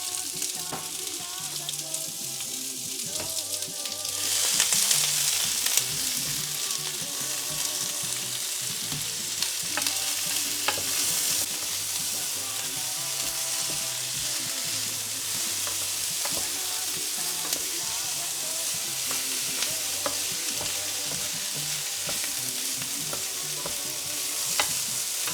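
Stirring a pan of cooked vegetables with a whole chili pepper, a steady sizzle and frying hiss running throughout, close and continuous, with scraping stir strokes mixed in.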